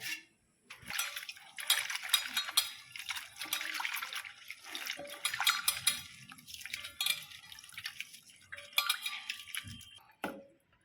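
Fish being washed by hand in cold water: close, continuous sloshing and swishing with brief pauses, water splashing as the fish are rubbed and turned.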